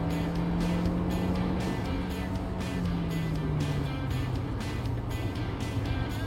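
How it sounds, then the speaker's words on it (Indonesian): Kia Seltos EX+ engine held at high revs after a gear shift, a steady loud drone with a slowly falling tone under continuous road and wind noise inside the cabin. "Black Pals bisa ngedenger, RPM-nya setelah shift pun akan ditaruh di atas terus gitu, dipertahankan di RPM tinggi"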